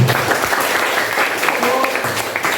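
Students in an Indonesian classroom clap together in a steady, continuous patter, fairly close, while a voice talks faintly over the applause.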